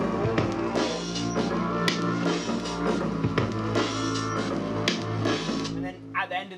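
A dense hip-hop beat for a track plays steadily: drums, bass, a vocal synth and added effects layered into one full mix, loud and continuous before briefly thinning at the very end.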